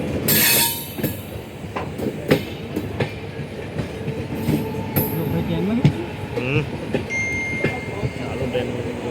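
A moving train rolls along the rails with rhythmic clickety-clack, rumbling wheels and occasional squeals, heard loud from on board, with people talking over it.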